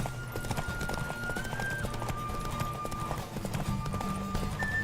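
Rapid, rhythmic hoofbeats of a horse galloping in The Witcher 3, steady and close over a tonal music bed, with a faint whinny mixed in.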